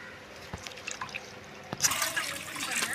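Water trickling and splashing during fish washing for cutting, faint dribbles at first, then a steady louder pour filling the second half.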